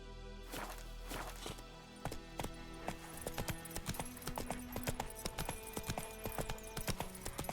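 Horse hooves clip-clopping in The Witcher 3, a steady run of sharp hoof strikes on hard ground that grows denser and more regular toward the end, with no talk.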